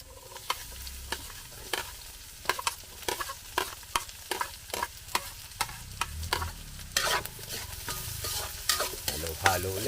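Chicken frying in a pan with ginger and garlic, stirred repeatedly on a farm cooking setup; sharp scraping strokes of the utensil come in an irregular rhythm over a steady close sizzle, with no talking.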